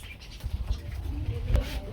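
Pigeons, kept for sale and including Saharanpuri birds, coo in low, soft murmurs close by. The cooing is repeated over a faint background hum.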